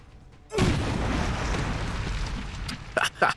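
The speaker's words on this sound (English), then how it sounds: "We can get the flame grenade up there though." A flame grenade bursts in XCOM 2, a sudden loud boom followed by roaring fire that sustains for a few seconds before tapering, with a couple of short sharp pops near the end.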